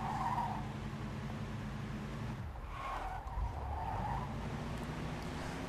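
Car engine droning in the video game Mafia 2, broken midway by a tire skid and then resuming its steady hum, all heard at moderate distance with no talking.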